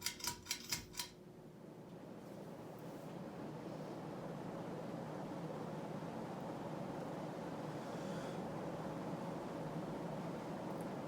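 Fasco Boca Raton 52-inch ceiling fan running on its highest speed, a steady broadband whoosh of moving air with a faint hum, after a few quick clicks of the pull chain, close by with no talking.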